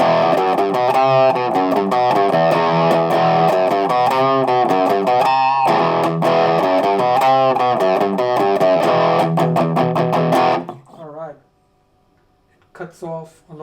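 Gritty, overdriven electric guitar riffs through a Boss DS-2 Turbo Distortion pedal in turbo mode 1, choppy rhythmic chords, loud and crunchy, then the playing stops and a voice speaks briefly near the end.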